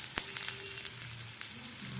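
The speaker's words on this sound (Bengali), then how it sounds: "কালো জিরে ফোড়ন দিয়ে রসুন কুচি আর আদা কুচি দিয়ে দিলাম।" Black cumin seeds, chopped garlic and ginger sizzling in hot oil, with a steady close crackle of frying, a brief sharp pop near the start and no voices.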